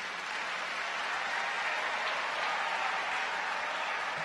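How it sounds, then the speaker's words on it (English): Steady, dense applause from a large audience at a live evening event with a musical guest, filling the whole stretch at an even level without any talking. "Ladies and gentlemen, a round of applause, and let us welcome to the stage to show our appreciation"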